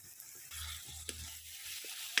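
Chopped tomato being stirred into softened onions in a frying pan for a soya chunks roast, a soft scraping stir over a steady low sizzle, with a couple of sharp clicks of the spoon against the pan.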